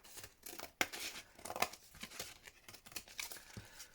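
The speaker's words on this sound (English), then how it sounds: "This fabric obviously wasn't square, so just going to trim it there." Scissors trim excess fabric in a series of close, crisp snips and rustles, mixed with soft crinkling and tearing as the fabric is cut back.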